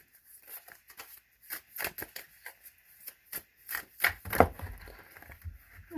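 Tarot cards are shuffled by hand in soft, irregular riffles and slaps, a quiet close-up series of papery taps and flutters over several seconds.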